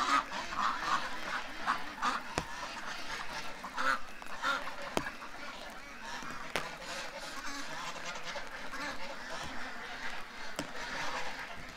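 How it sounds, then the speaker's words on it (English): Geese gather around a hurt duck on a rainy morning, giving repeated nasal honks and quacks at moderate distance over a steady wet background, with a few sharp knocks. "The geese are coming over to check out the hurt duck. They're talking to it."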